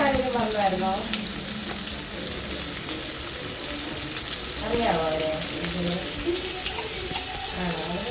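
Fish fries in hot oil with curry leaves added, a continuous hissing sizzle with crackling bursts, accompanied by a faint voice speaking.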